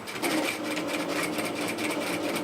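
A sewing machine stitches a seam on a rear-zip hoodie, its rapid continuous needle chatter running steadily and loud up close for a couple of seconds.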